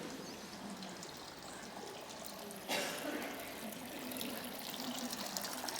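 Flowing water runs softly and steadily in a quiet meditation space, a faint continuous trickle with a slight swell partway through.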